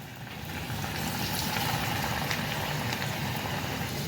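Small onion bhaji batter balls, dropped one by one into hot oil, fry with a steady broadband sizzle and bubbling that rises in the first half second and then holds evenly loud and close throughout.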